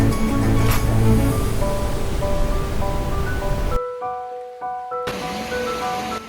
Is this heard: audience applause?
no